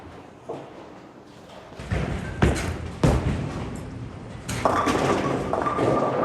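A Motiv Trident bowling ball is released with a heavy thud, then rolls down the lane in a rising rumble. Sharp impacts follow, ending with a loud crash as it reaches the pins.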